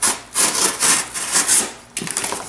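Spyderco Domino knife blade slicing through cardboard in a cut test, a series of quick rasping, sawing strokes with brief pauses between them, close and crisp.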